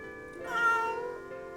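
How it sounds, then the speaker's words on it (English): A single cat meow in the video game Eternal Sonata, a clear drawn-out call that swells and fades over about a second against quiet background. "Oh, it's a cat."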